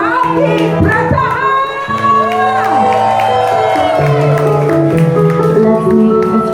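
An audience cheers, whoops and applauds at a live event, a steady crowd roar that stays mixed beneath loud playing music for the whole stretch.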